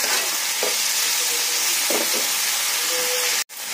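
Onion and tomato fry in a pan with a loud, constant sizzle, while a spatula scrapes and stirs at intervals near the pan.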